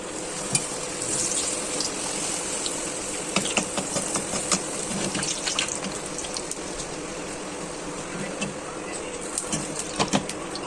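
Puris fry in very hot oil, giving a steady close sizzle with bubbling crackle and occasional stirring clicks, while a person talks at times.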